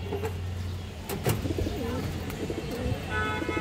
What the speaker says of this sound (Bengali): একটা হাই কোয়ালিটির একদম পুরানা লাইনের একটা হারিকেন মাদি কবুতর আছে